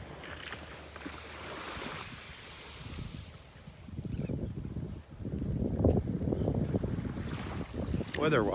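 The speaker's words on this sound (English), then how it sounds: "A nice little breeze blowing, coming from the east, blowing offshore" A light easterly breeze blows offshore on a beach in North Naples, Florida, on the Gulf of Mexico, buffeting the microphone in gusty rushes that strengthen in the second half.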